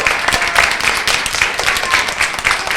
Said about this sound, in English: How about a nice big round of applause for Marco?